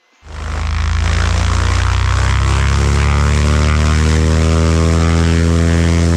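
A small propeller plane's engine is run up before takeoff from Glendale: it catches and swells within a fraction of a second into a loud, steady, droning roar with a strong propeller buzz, holding constant with no talk.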